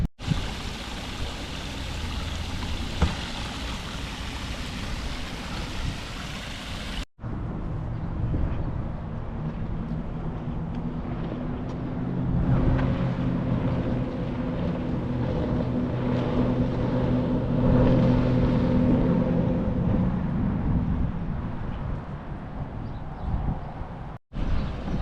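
Broadband buffeting wind noise rushes across a GoPro Hero 11 Black microphone, loud and continuous, with a low engine-like drone appearing partway through.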